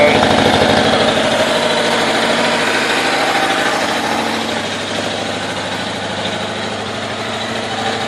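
A 1986 Kawasaki Ninja 1000R (GPZ1000, ZX1000A) superbike engine idles steadily close by, a loud, even, throbbing hum with a slight drop in level partway through, while a voice talks briefly over it.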